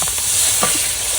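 Spices fried with turmeric and chili powder in a wok hiss loudly as water is added, a dense steady sizzle with faint stirring scrapes, brief and close.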